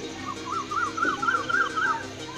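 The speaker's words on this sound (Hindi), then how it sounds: "कोयल की आवाज आप सुन रहे हैं" An Asian koel calls repeatedly in Aarey forest in the early morning, a series of evenly spaced rising notes at moderate distance over a constant background of flowing water.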